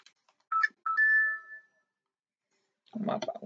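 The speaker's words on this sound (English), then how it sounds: "My phone's going nuts today." A mobile phone gives off short electronic notification chimes, a couple of quick blips followed by a held, clear tone, then the scene goes quiet before a busier burst of sound.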